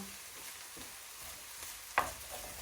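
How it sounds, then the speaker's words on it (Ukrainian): Food stirred in a pan with khmeli suneli spice mix, a soft continuous scraping and faint sizzle with one sharp clink of the utensil against the pan partway through. "Все гарно перемішуємо"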